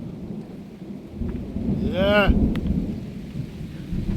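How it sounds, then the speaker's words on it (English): Rain falls over a Jamaican vegetable garden planted with callaloo, kale and pakchoi, a steady broadband patter with low thunder-like rumbling; a brief rising whistle-like sound appears midway, and one short voice is heard. "Some rain"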